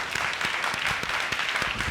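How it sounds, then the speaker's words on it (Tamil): A church congregation claps during a Tamil sermon, a brisk run of many hands with individual sharp claps standing out over a steady clapping wash. "அவரை கைத்தட்டுங்க."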